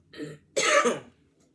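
A person coughs and clears their throat, two close, loud bursts: a short rough one, then a longer harsh fit with a brief pause between.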